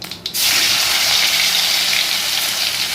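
Tomato tipped into hot oil already tempered with bay leaf, cumin and dried chili sets off a sudden loud hiss after a short quiet moment, and the sizzle then holds strong and steady.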